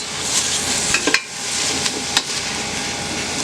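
Garlic sizzling in a pot while being stirred for a chowder, a steady close crackling hiss broken by a few sharp spoon clinks against the pot.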